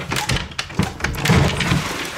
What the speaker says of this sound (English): Door open. It's jammed.